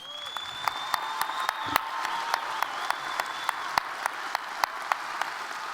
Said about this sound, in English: Now applaud.